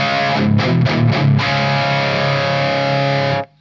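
A heavily overdriven electric guitar chord through a Marshall Plexi amp with no pedals rings out after a few quick strummed hits, sustaining thick and loud before cutting off sharply.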